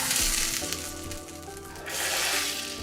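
Hot butter poured onto a bowl of tarhana soup gives a soft, continuous sizzle that swells again near the end, quiet and without talk.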